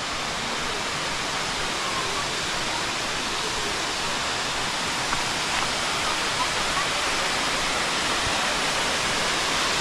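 A steady, loud roar of falling water at Lampi Waterfall in Thailand, continuous broadband rushing with no breaks, heard close to the falls.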